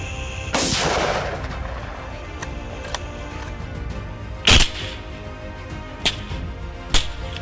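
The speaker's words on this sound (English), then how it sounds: "With the semi-automatic fire of the AR-15, you can take out multiple targets before they disperse" Shots from an AR-15 semi-automatic rifle during a wild boar hunt: one loud report near the start with a long rumbling tail, then a sharp close crack and a few fainter spaced shots.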